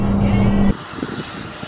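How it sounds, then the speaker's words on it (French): A farm tractor's engine drones loud and low for a moment, then cuts off abruptly, leaving quieter background noise. "Là, c'est mon papa qui roule un tracteur."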